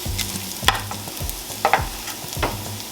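Rice toasting with onions and garlic in a pan is stirred, with a utensil scraping and clacking several times in an uneven rhythm over a steady low sizzle, fairly close and with no talking.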